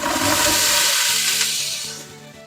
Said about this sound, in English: and then just pour your onions right in